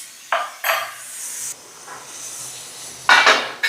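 Bottle gourd pieces cooking under a lid in a covered pan give a soft steady hiss and steam, broken by a few clinks of the lid and pan, the loudest near the end.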